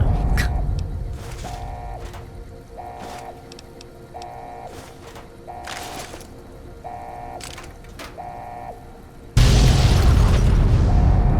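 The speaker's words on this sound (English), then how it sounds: "Hopefully there's less explosions in here. Ah, there are." Repeated booming explosions in Fallout: New Vegas, spaced at regular intervals with a recurring beeping tone between them, ending in a loud sustained roar.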